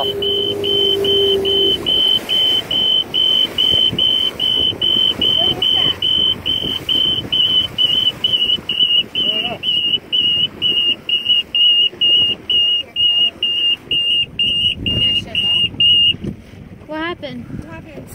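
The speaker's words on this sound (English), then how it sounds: "Why is the alarm going off?" A motorboat alarm sounds with a steady high-pitched repeating beep for about sixteen seconds, close and loud over engine drone and wind noise, with people talking now and then.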